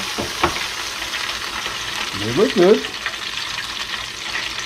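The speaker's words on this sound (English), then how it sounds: "Frying up some pigfish." Pigfish fillets sizzle and crackle steadily in hot frying oil, with a brief stirring or shifting sound midway and a voice speaking briefly over the frying.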